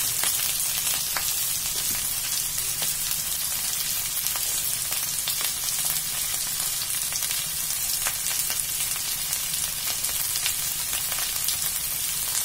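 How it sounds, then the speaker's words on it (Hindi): Pointed gourd pieces frying in oil in a pan, a dense, constant hissing sizzle with scattered small pops, close and steady throughout, with no talk. "ये पर हम परवल भी डाल देंगे।"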